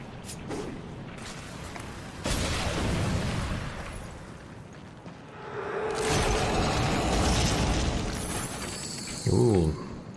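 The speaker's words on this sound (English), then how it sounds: "So there's only one way to get it off, and that's to throw a shadow bomb at it" Explosive bursts and crackling blasts in the Darksiders 2 video game as a shadow bomb is thrown at a corrupted chest, with a rumbling swell mid-clip and a short, sharp sweeping effect near the end.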